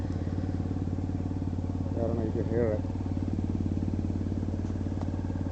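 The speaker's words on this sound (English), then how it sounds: "it came like a weird sound on the bike. Like the engine is almost gonna knock out." A Honda CBR F4i motorcycle engine runs at a steady idle with an odd knocking, uneven beat. Someone speaks briefly over the close, continuous engine note.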